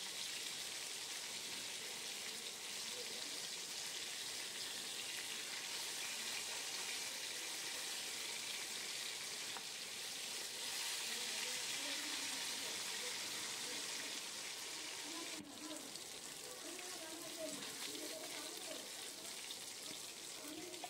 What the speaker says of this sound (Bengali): এবার মাছটা ভেজে তুলে নিচ্ছি।